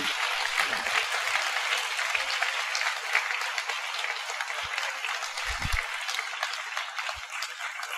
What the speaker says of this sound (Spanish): Dale un poderoso aplauso al Señor Jesucristo